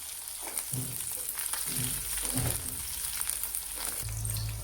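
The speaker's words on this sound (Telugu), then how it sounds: "ఇప్పుడు మిర్చి ఫ్రై అయిన తర్వాత ఇందులో కొంచెం కొత్తిమీర వేసి కొత్తిమీరను కూడా బాగా ఫ్రై చేసుకోవాలి." Green chillies and coriander leaves fry in a pan for a ridge gourd chutney, a steady close sizzle with a few louder crackling bursts and faint stirring scrapes, no voices.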